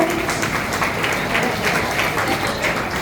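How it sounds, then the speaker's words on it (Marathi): A school audience at a vote-of-thanks ceremony claps steadily and densely for the whole stretch, loud and close, with voices murmuring underneath. "टाळ्यांचा आवाज मुलांकडे नाही जातो"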